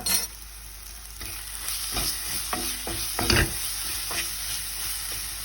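A tomato and onion mixture with salt is stirred in a hot pan: a steady close sizzle runs throughout, broken by several sharp spatula scrapes and knocks against the pan.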